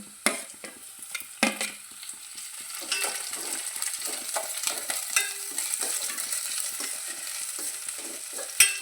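Sliced onion frying in a pan as ginger, green chilli and curry leaves are added for a fish curry, a soft steady sizzle broken by stirring scrapes and a few sharp clinks of the spoon against the pan.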